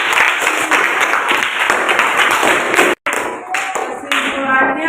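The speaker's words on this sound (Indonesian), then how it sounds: "Tepuk tangan untuk kelompok 1" A Grade 4 primary school class applauds a student group, dense fast clapping filling the room close by, broken by a brief cut, then lighter scattered claps continuing.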